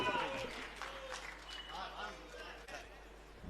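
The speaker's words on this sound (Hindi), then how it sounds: "एक बार जोरदार तालियां अगर आपकी हो जाए" Audience applause at a Hindi poetry recital, a dense wash of clapping from a crowd that holds steady for a few seconds, with a voice speaking faintly through it.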